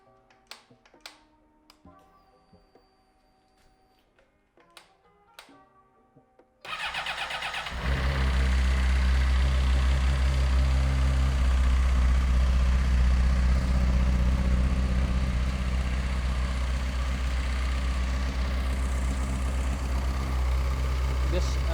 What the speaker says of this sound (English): So we're gonna start the bike and let it idle and look for leaks.